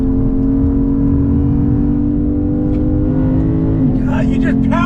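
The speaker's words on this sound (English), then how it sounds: "you just power out of turn. Nice quick downshifts." A 2022 Lexus IS 500 sport sedan's engine drones loudly from inside the car as it powers out of a turn, its pitch shifting near the end where a voice briefly cuts in.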